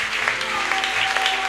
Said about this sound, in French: Acclame très bien pour le Seigneur.